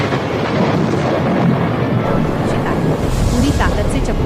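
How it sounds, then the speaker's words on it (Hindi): Thunder rolling through a storm over a river, loud and continuous with rain and wind noise, steady rumbling roar across the whole stretch with brighter crackling bursts toward the end. "बिजली कड़कती है और लहरें नाव से टकराती हैं"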